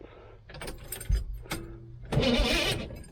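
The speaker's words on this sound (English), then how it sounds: "Oh, it's turning over." A 1980 Camaro Z28 found in a junkyard, with its battery mounted in the trunk, cranks over on the key in a few short bursts, close by and fairly loud, with a faint jingle of keys.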